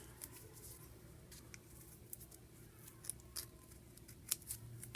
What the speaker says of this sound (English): it's a little bit more challenging when you're using your scissors